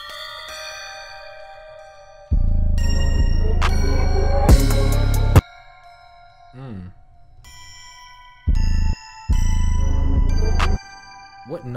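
Bright bell and chime tones from a music production instrument preset ring out in separate bursts, some with a deep booming layer beneath, separated by brief quiet gaps.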